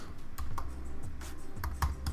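Quick keystrokes on a computer keyboard while typing a folder name, a close, busy patter of clicks with a few louder taps.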